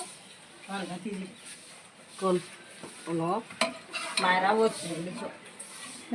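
Ugani, a puffed-rice dish, is stirred vigorously in a large pot, with repeated scraping and clattering strokes of a spoon against the metal while people talk over it.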